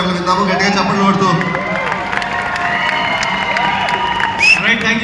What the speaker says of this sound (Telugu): షబీర్ గారు మాట్లాడే మాటలు విందాము, గట్టిగా చప్పట్లు కొడుతూ.